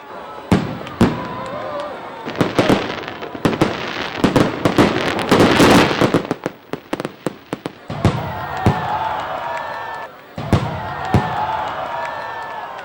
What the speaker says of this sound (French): Un spectacle de feux d'artifice qui n'a pas manqué d'émerveiller le public